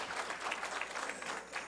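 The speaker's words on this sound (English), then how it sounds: "Can we get an applause?" A crowd at a town-center event with a senator in Laurel, Maryland breaks into applause, a dense, steady wash of clapping at moderate distance with no talk over it.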